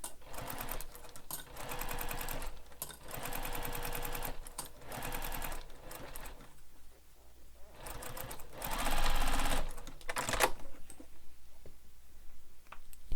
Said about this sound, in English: we're going to take this to our machine and we're going to sew along this top edge using the seam allowance given in the pattern